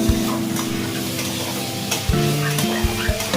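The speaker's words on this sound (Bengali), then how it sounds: "ভালো করে কষাই নিই" Boiled green jackfruit sautéed in a pan, a constant sizzle under repeated scraping and stirring strokes of a spatula against the pan, close and continuous with a few sharper knocks.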